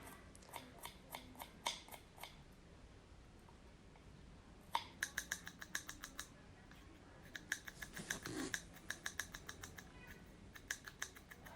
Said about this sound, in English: now I start to cut the lemongrass